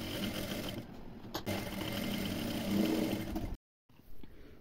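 Sewing machine running steadily as it stitches a double-folded hem on blouse fabric, a loud continuous mechanical whir that stops abruptly near the end, then briefly resumes.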